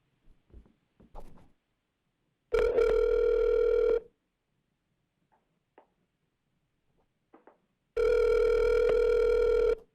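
A telephone ringback tone sounds twice during a city council meeting call to a public commenter: two steady rings separated by a quiet gap, with faint clicks before the first.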